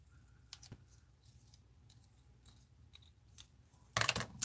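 A few soft snips and clicks of scissors cutting washi tape in a quiet room, ending with a louder burst of cutting and rustling.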